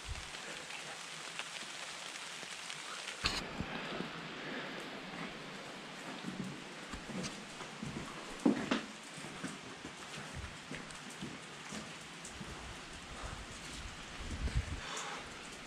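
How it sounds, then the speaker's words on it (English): Heavy rain pours down at night outside a castle entrance, a dense, continuous hiss of drops hitting surfaces, with a few louder knocks and scuffs standing out nearby. "It's pouring down with rain"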